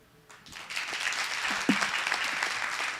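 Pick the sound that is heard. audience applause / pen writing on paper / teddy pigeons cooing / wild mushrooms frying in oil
audience applause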